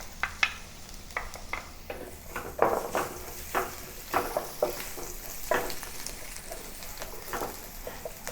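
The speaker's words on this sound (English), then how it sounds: "Start by sauteing the ginger and garlic." Ginger and garlic sauteing in hot oil in a pan for a Sichuan eggplant dish, giving a steady close sizzle with a run of crisp stirring scrapes and pops, no voices.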